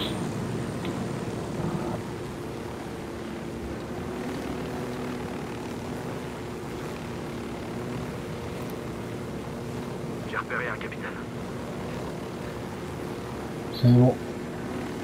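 A helicopter in the video game Ghost Recon Wildlands drones steadily with a low rotor hum throughout, while a player speaks briefly over it.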